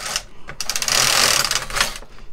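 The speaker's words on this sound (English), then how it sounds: "So again, we'll just knit a row." A Brother KX350 or LK150 knitting machine carriage knits a row on a stocking, giving a close, continuous whirring, ratcheting swish as it slides across the needle bed, stopping at the end, with no speech.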